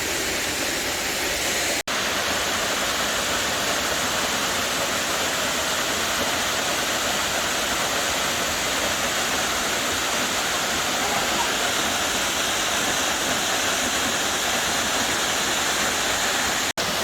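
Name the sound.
waterfall at Bullion Falls, Utah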